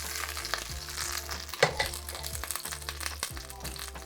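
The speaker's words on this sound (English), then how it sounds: "we've got a nice sear on all of the edges and all of the sides" Beef pot roast sears in a hot pan with a steady, close sizzle and crackle, a sharp pop near the middle, and faint low clatter beneath; nobody speaks.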